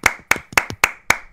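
Five sharp, close hand claps spaced evenly about a quarter second apart, loud and dry with nothing else between them.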